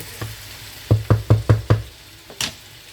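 Bell pepper cooking in a pan and stirred now and then: a soft frying sizzle under a row of five sharp knocks or taps of a utensil in quick succession, then a final scrape.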